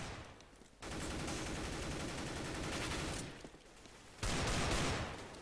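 Heavy bursts of gunfire in the video game CS:GO come in two sustained volleys separated by a quieter gap, loud and dense with no speech over them.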